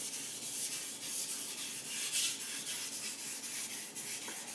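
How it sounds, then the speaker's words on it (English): A Takeda gyuto kitchen knife rubbed back and forth on an Imanishi 1K sharpening stone, giving a steady, close, gritty hiss with soft rhythmic strokes and no talking. "run this knife over the stone a little bit, and it should contact the edge without lifting it at all once I'm on it"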